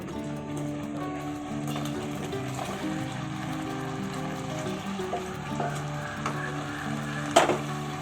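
Mixed vegetables going into a frying shukto spice paste with a little sugar, a continuous close sizzle and bubbling with stirring scrapes, plus a sharp clatter near the end.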